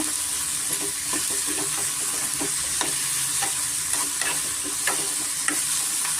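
Radish pieces frying in oil over a medium flame, a continuous sizzle with regular scraping and tapping of a spoon stirring in the pan, close and steady.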